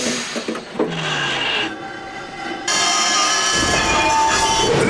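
Cartoon steam train running steadily with a horn blast, a loud continuous rumble and hiss that swells and gets busier partway through, with no talking over it.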